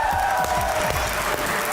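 A studio audience at a Pakistani comedy talk show claps, producing a brief, dense burst of loud applause that fills the whole moment.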